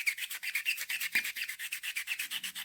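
A smooth acrylic nail is buffed with a hand file in quick, even back-and-forth strokes, giving a rhythmic, close squeaky rubbing that repeats about seven times a second for under three seconds.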